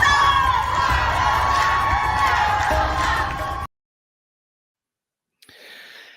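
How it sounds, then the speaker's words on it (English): Women clapping and cheering jubilantly around a speaker on stage, a loud, dense burst of crowd cheers and whoops that cuts off abruptly, followed by silence, then faint sound resuming. "there's all these women around her clapping all jubilantly"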